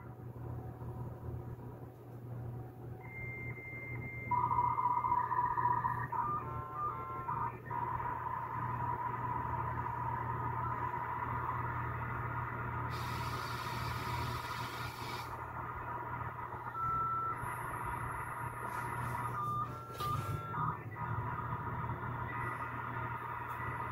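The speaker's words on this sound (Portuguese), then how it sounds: "Olha só o barulho da conexão, tá ligando." A 33.6 kbps dial-up modem connecting: steady tones and handshake chirps, then a loud burst of hissing static, over a constant low hum and background rumble.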